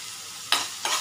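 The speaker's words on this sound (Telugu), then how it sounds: "ఉల్లిపాయలు వేగనివ్వాలి" Onions frying in a pan with oil on a steady sizzle, broken by two louder stirring bursts about a third of a second apart.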